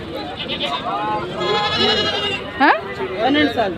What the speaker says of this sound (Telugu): మేకపోతులు వచ్చేసి చిన్న పిల్లలు ఉన్నాయి, పెద్ద సైజులు ఏం కాదు, ఇవి చిన్న సైజులు.